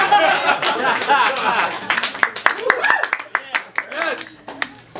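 Comedy club audience at an Upright Citizens Brigade monologue show claps in scattered, uneven bursts, mixed with laughter and a voice talking over it, fairly close and lively throughout.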